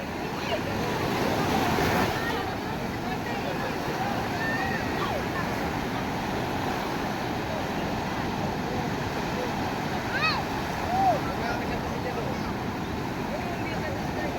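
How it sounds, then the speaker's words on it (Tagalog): Large ocean waves at sea heard from a small boat whose engine has stalled: continuous rushing surf and wind buffeting the microphone, loud and steady, with brief faint voices. "Yan ang alon"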